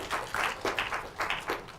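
A small audience at a talk on communicating climate gives a few scattered handclaps, in short uneven bursts that sound close and fairly quiet, with no voices over them.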